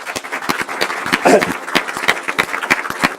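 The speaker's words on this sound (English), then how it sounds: "Let's give her a round of applause." Audience applause at a school board meeting honoring a high school science teacher, a steady patter of many hands clapping with a few louder claps, fairly close and filling the room.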